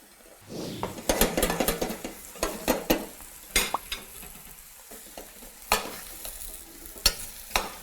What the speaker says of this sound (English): We just make saute of pumpkin and mirepoix, not allow them to change the color